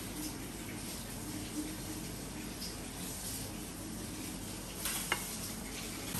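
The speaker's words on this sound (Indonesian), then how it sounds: "bawang ni kita masak dia, kita goreng dia sampai dia kekuningan" Onions frying in a pan until golden for chili fried rice, a soft steady sizzle with faint stirring scrapes and a light clink near the end, quiet and continuous.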